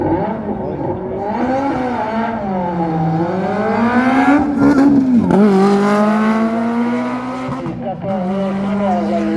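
A Renault 5 Turbo race car at a hill climb, its engine note rising and falling through gear changes and revs, loud and close, with a crowd voice and commentary murmur mixed underneath.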